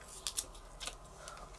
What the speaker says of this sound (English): Oh, why am I using my scissors?